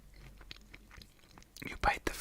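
Big fries bitten and chewed close to the mic, with soft mouth sounds and faint crunches that build to a louder bite near the end, under a low murmur of speech.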